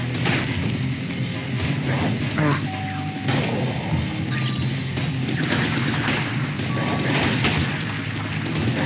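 Dense game gunfire from a newly picked-up gun in Ultrakill, loud repeated blasts and crashes packed close together over constant busy action noise, with no talk.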